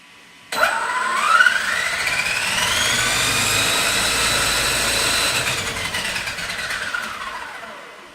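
An electric-converted HPI Baja RC car with a Hobbywing EZRun 800KV Max 5 motor spinning in reverse, a sudden start into a rising electric whine that holds loud and steady for several seconds, then winds down.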